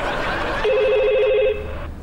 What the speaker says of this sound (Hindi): नवाज शरीफ साहब को टेलीफोन पे लें जी।